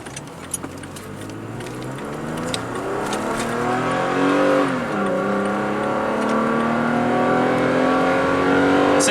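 Steady drone of a car engine and road noise while driving along the Caton Mountain Highway, with rising and falling engine tones as the vehicle shifts and climbs, continuous and close throughout.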